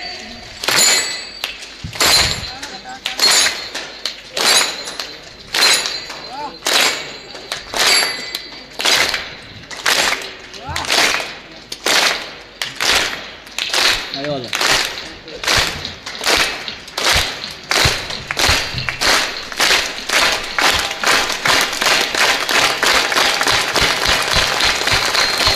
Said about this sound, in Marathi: एक टाळी वाजवा